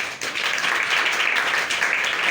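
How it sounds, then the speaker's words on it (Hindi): Audience applause in a hall, a dense, steady wash of many hands clapping together, fairly loud and close, sustained for a couple of seconds without speech over it. "जोरदार तालियां बजा दीजिए"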